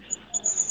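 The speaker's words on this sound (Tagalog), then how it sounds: "Yung aso, yung maingay na kuliglig, paki-silent ang mic." A cricket chirps loudly and close to a microphone during an online debate. Its thin, high-pitched trills come in short bursts against faint background hiss.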